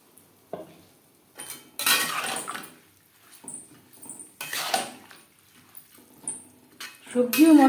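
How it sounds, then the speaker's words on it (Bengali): A utensil mixes mung dal with lightly fried vegetables and spices in a metal pot, making intermittent scraping and clinking bursts between quiet pauses. "সবজি ও মশলার সাথে ডাল বেশ ভালো করে মিক্সড করে দেব"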